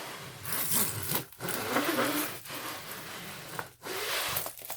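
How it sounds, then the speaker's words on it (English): A clear-covered diamond painting canvas is rubbed against a table, giving a close, steady papery scraping and swishing that breaks off in a few short pauses between strokes. "on these ones with the clear cover, you can actually rub those on the table to straighten them"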